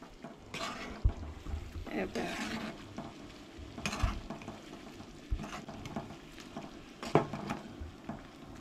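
Goan fish curry bubbling in a pan as fresh coriander is stirred in, soft simmering and sizzling with a few scraping spoon strokes and taps against the pan, moderately close.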